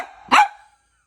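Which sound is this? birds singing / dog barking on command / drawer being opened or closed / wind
dog barking on command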